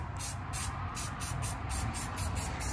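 Aerosol can of silver paint sprayed onto rusty brake parts of a 2014-2018 Mitsubishi Mirage, a steady close hiss with repeated short pulses from the nozzle, no talking.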